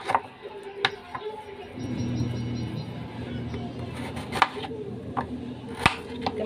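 Kitchen knife chopping large turnips for pickling, with a series of sharp, close knocks on the board spread through a low, steady background murmur.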